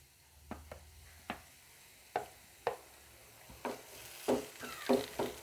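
Garlic, ginger, pandan and curry leaves tempering in a pan with potato give a soft sizzle and scattered clacks of stirring, quiet and close, growing busier toward the end.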